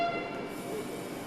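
Nagpur metro train departing, a faint steady rumble and hiss of rail cars with a brief high whistle-like tone early on, heard at a distance.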